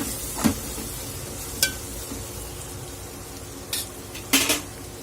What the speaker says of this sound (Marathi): आपण यामध्ये हळद घालून घेणार आहोत आणि परत एकदा आपण मिक्स करून घ्यायचं आहे